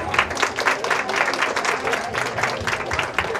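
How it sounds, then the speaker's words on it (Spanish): An indoor audience at a Frida Kahlo makeup and characterization event at the Mexican consulate in San Jose applauds the artists, with steady crowd clapping and chatter underneath. "Un aplauso para ellas, por favor."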